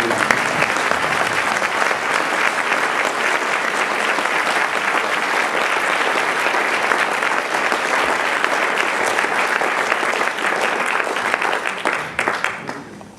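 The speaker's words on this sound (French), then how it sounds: "vous avez le droit d'applaudir" Audience at a French stage performance applauds steadily and loudly for over ten seconds, a thick even wash of clapping that thins out at the very end.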